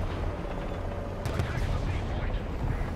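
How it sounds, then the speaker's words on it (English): Artillery shelling in War Thunder rumbles as continuous low booms and impacts under a dense battle din, with a player talking over the top. "I'm being artilleried"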